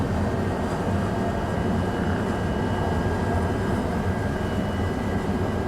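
Steady droning engine of a propeller aircraft, the Scoop, in Microsoft Flight Simulator 2024, a constant loud hum with an even tone held throughout and no talk.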